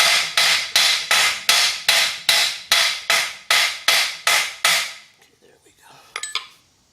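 A hammer taps a steering head bearing race into a 1978 Kawasaki KZ750. About fourteen sharp, ringing metallic blows land at a steady, even pace, then stop, followed by a few faint clinks.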